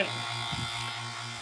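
A vacuum pump hooked to a GM vehicle's rear A/C lines runs with a steady, close electric buzz and a constant low hum, unbroken for the whole stretch.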